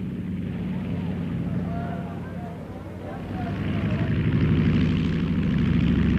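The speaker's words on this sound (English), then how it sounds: "new generations of airplanes with two and later four piston engines revolutionized commercial air transportation" Piston-engine propeller airliners with two or four engines, a steady droning roar with a low throbbing beat that swells toward the end, heard under continuous narration.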